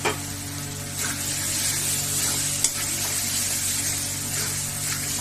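Fried paneer hisses and sizzles as it is stirred into a spiced yogurt masala in a pan, a steady close frying noise broken by a few sharp clinks of the spoon.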